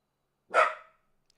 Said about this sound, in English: He's looking out the window barking.